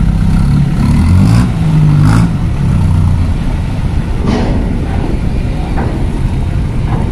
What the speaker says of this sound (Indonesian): Senang saya kalau ngeliat pickup tinggi-tinggi naik kapal.